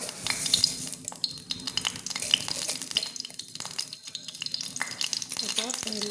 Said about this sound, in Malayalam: എണ്ണ ചൂടായി വരുന്നുണ്ട്.